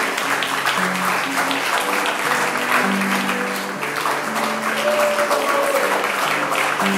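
Wedding guests applaud through a steady wash of clapping while an instrumental duo plays sustained melodic notes underneath, the clapping and music continuing evenly throughout.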